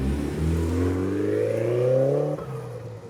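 A Mitsubishi Evo VIII MR rally car engine revs up steadily on a track, pitch climbing for about two seconds before the throttle drops and the tone falls away.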